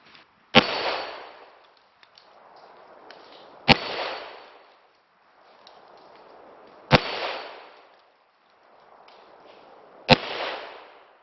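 A 10mm Glock 20 Gen 4 and a Colt Official Police revolver fire soft lead bullets at an impact target outdoors. Four loud, sharp shots come a few seconds apart, each followed by a decaying echo.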